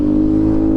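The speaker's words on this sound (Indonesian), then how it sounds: "Kalau pakai knalpot standar ya kayak inilah" A Yamaha NMAX scooter engine with its standard exhaust revs with a steady, loud, close drone and a constant hum, lasting under a second.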